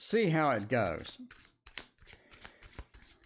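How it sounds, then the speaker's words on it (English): A tarot deck is shuffled by hand in a run of quick papery riffles and taps that follow a short bit of speech, close and moderately loud. "I shuffled the Jesus out of these cards."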